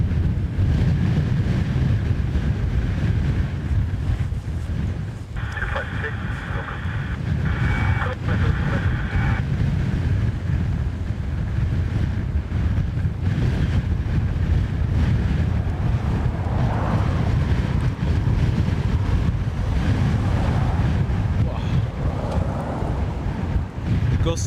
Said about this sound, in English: Gusts are no longer gusts, it's just permanent.